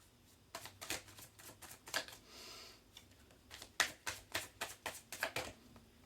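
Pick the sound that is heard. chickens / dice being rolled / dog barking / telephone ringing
dice being rolled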